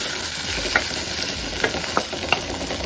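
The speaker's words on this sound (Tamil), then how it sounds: "இப்போ நாம் வேக வச்ச சுண்டலை நாம் இதில் போட்டுடலாம்" Boiled whole moong dal sundal goes into a hot pan and is stirred, with a constant close sizzle and a few quick spoon scrapes and taps over the short stretch, no voices.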